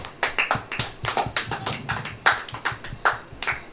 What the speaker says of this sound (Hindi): उसकी उपस्थिति के लिए एक जोरदार ताली बजाएं